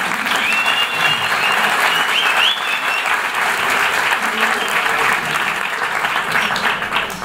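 Audience at a climate change expert panel in Colombia claps in sustained, dense applause, steady and fairly loud throughout, with faint voices mixed in.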